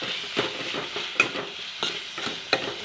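Soybean chunks being stirred in a frying pan while cooking with tomato: repeated scraping strokes roughly every second over a steady close sizzle, with no talking.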